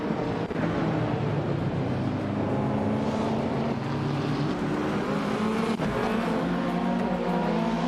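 Engines of race cars, including a 1988 Porsche 944 Turbo, roar continuously in a racing video game at Sportsland Sugo, a dense steady drone with harmonic whine and no break.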